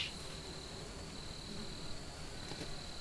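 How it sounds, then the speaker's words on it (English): Honey bees buzzing around an opened horizontal hive on a farm during an inspection, a steady faint drone with a faint voice in the background. "Lots of bees."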